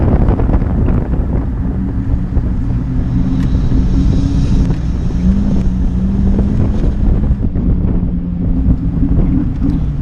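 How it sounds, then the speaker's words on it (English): A 253 hp turbocharged Mazda Miata drives on the Grand Junction Motor Speedway track, its engine droning loud and continuous with shifting pitch as it pulls, overlaid by heavy wind rush. "And man, did that turbo sure sound good."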